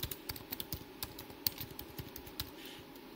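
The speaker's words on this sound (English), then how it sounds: "So I'm going to input the email ID of John and the company name" Quiet, close typing on a computer keyboard, a quick irregular run of soft key clicks across the whole stretch with no talk.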